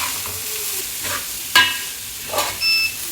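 Rice is tipped into masala frying in a pan and stirred, with a soft ongoing sizzle broken by a few scraping stirs and brief clinks of the utensil against the pan.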